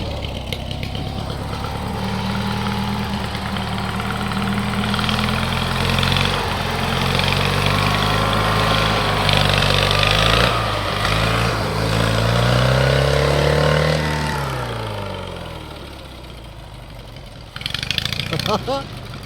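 MTD racing lawn tractor engine running on a test, a loud continuous drone that rises and falls in pitch as it revs, easing off toward the end with a short burst after.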